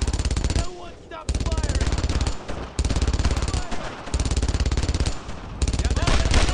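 Sustained automatic gunfire from a World War II shooter, Brothers in Arms, rattling loud and close in long rapid bursts with only brief gaps, while voices shout in the background.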